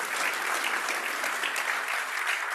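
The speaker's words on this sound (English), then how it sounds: "I think that deserves a round of applause." A studio audience breaks into sustained applause, a dense, even wash of clapping that holds steady and fairly loud throughout without any voices on top.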